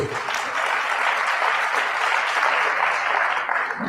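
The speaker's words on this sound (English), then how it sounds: "Give Tumelo a round of applause." An audience at a business workshop claps steadily and loudly for a few seconds, a dense wash of applause without speech.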